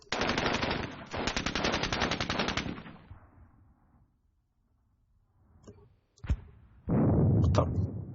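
Sustained bursts of video-game gunfire in John Tiller: Advance of the Reich, two long rattling volleys, a lull with scattered single shots, then another heavy loud burst.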